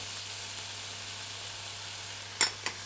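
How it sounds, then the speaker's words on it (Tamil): Tomatoes sautéing in a pan for dal give a steady, quiet sizzle throughout, with two brief louder stirring scrapes near the end; no voices. "தக்காளி அதையும் போட்டு வதக்கிக்கலாம்."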